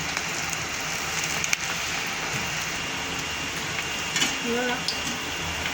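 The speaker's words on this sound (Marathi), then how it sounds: "मी अशा हातानंच भजी सोडून घेत आहे तुम्हाला वाटलं तर तुम्ही चमच्यानं पण सोडू शकता आपल्या तेलामध्ये जितके बसतील तितके सोडायचे" Cabbage bhaji fritters frying in hot oil, a steady dense crackle and hiss running throughout, with a few louder pops and sizzle bursts near the end.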